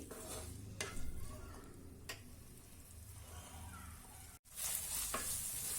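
Shredded cabbage fries in spice paste on a tawa for street-style pulao, a soft continuous sizzle with spatula scrapes and stirring taps, close and fairly quiet, with no voices.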